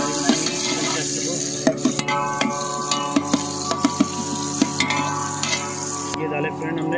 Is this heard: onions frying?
yes